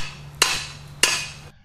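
Hammer blows drive down the top of a model tower in a collapse experiment: two loud, sharp strikes about half a second apart, each ringing briefly before the sound cuts off.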